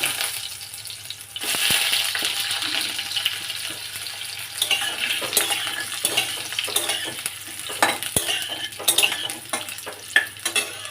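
Potatoes fry in hot oil with dried chilli and whole cumin in a pan, a steady close sizzle broken by repeated scraping and clinking of a spoon stirring against the pan.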